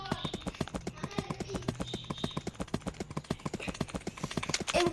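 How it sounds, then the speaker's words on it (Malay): Horse hooves clip-clop in a video game, a steady, rapid train of crisp hoofbeats that continues throughout, with faint voices in the background. "Ada kuda."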